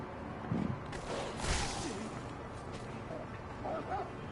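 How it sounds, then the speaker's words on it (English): Dogs bark and yelp in a Sekiro encounter, a few short barks and whimpers sitting in a dense, noisy backdrop of game sound. "Oh man, I tried to avoid those dogs"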